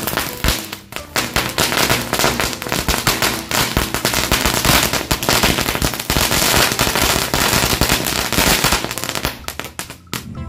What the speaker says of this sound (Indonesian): kita lanjut menyalakan mercon panjang green lighting